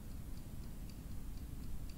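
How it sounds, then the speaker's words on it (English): Clock ticking in a steady, even rhythm, each tick sharp and light, with a low rumbling background underneath and no voices. "What's that ticking noise?"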